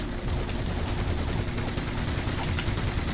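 Turret gunfire in the video game Ratchet & Clank: a continuous rattling barrage of rapid shots with low booming weight, dense and steady throughout, loud and near with no talk over it.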